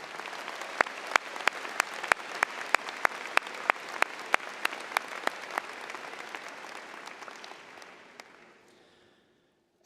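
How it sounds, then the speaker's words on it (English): An audience at a Penn High School commencement applauds for students, a sustained patter of clapping with sharp individual claps standing out, carried by a hall's echo and fading to silence at the end. "let's give them a round of applause"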